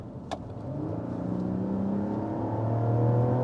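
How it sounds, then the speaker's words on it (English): A 2023 Mazda CX-60's inline-six engine accelerates from inside the car, its tone climbing smoothly and steadily louder over a few seconds, with a brief click near the start and no voices. "you cannot beat an inline 6 for sound"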